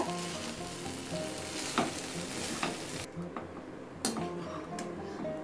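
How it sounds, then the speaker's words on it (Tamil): Chicken fajita rice is stirred in a frying pan with a steady sizzle and fry, scraping strokes of a spoon or spatula, and occasional light clinks against the pan. "இப்போ இந்த சிக்கனும் நம்ம சாதமும் நல்லா மிக்ஸ் ஆகிற மாதிரி ஒன்று போல் கிண்டி விட்டுக்கோங்க."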